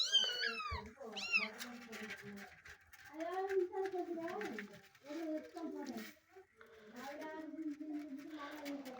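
Cats in a home attic meow again and again, the calls rising and falling, some high and thin, others lower and drawn out, close and clear with a few short gaps between.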